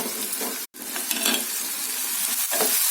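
Potato pieces fry in hot oil in a pan for an aloo capsicum gravy, giving a steady close sizzle broken by stirring scrapes and a brief cut-out near the start.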